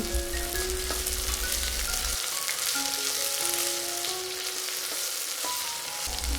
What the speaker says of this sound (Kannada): ಇದಕ್ಕೆ ಅರ್ಧ ಕಪ್ಪಷ್ಟು ಹಸಿ ಬಟಾಣಿ ಇದನ್ನು ಚೆನ್ನಾಗಿ ಬಾಡಿಸಿಕೊಳ್ಳಿ